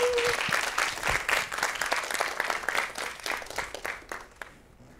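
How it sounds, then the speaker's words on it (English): An audience at a science lecture gives a presenter a round of applause, dense clapping that gradually thins and fades out near the end. "let's give her another round of applause"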